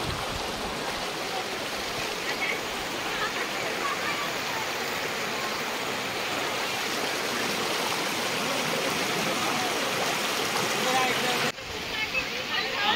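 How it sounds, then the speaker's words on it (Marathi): Rushing stream water below Pahine waterfall near Trimbakeshwar, a steady, loud broadband roar of water pouring over rocks that continues unbroken throughout, with a brief dip near the end. "हे बघ ना पाणी कसं लोटतं."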